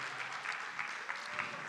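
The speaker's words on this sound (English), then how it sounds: "Make a clap for Sholakwe." An audience at an autism conference applauding, with steady, moderately loud clapping from a crowd throughout.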